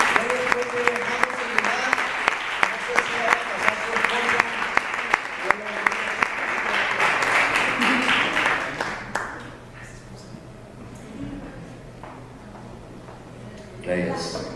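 A church congregation claps loudly together in a sustained burst that fades away over several seconds, with voices murmuring underneath and a brief swell near the end.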